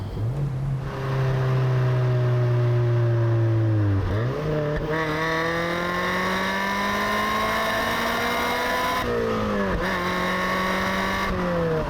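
Mazda MX-5 NC fitted with a BBR Super 200 kit revving to the redline: loud, close engine note that climbs steadily, dips briefly, then climbs again in long sweeping pulls with no talk.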